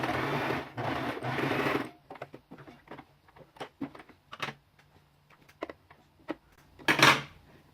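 A sewing machine stitches a seam on frock fabric cut from a dupatta, heard as a busy motor run for about two seconds, then short intermittent bursts and clicks with a louder buzz near the end.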